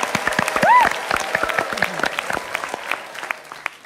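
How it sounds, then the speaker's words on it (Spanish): Enthusiastic audience applause, a dense burst of many hands clapping that swells then gradually thins out, with a host's voice briefly heard over it. "Otro aplauso más para Tomasita, por favor."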